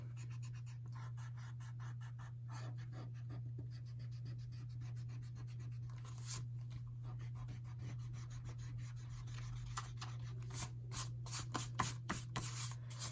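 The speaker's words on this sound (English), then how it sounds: "you can just erase your pencil line" Pencil lines being erased from cardstock, a close, dry rubbing and scratching that starts soft and continuous, then turns into a run of quick, louder back-and-forth strokes near the end over a steady low hum.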